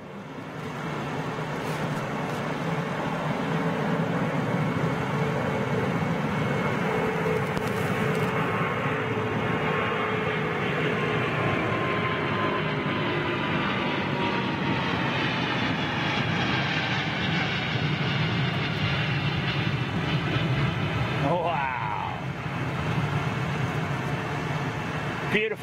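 An Embraer jet departs low and long from London Heathrow, its steady loud engine roar filling the whole stretch and slowly shifting in pitch, with someone talking over it.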